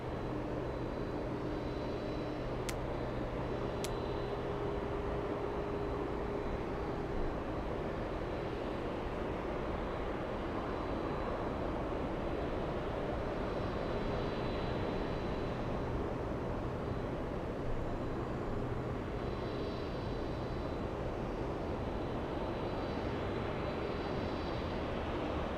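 A Delta airliner takes off from runway 8 right at Atlanta's Hartsfield-Jackson airport, heard as a steady, continuous engine roar that stays loud and even throughout, with no voices.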